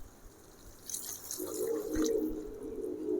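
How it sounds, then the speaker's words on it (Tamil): Water pours into a cooking pot of vatha kuzhambu with a soft splashing trickle that builds to a steady, gurgling stream, close and fairly quiet. "தேவையான அளவுக்கு கொஞ்சம் தண்ணி ஊற்றிக்கலாம்"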